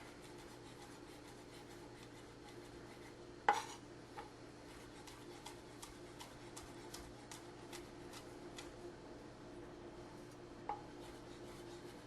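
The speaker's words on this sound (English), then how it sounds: "So we'll just begin by mincing up our scallops" A knife mincing scallops and shrimp on a cutting board, a faint, quick run of light taps with one louder knock early on, quiet and close.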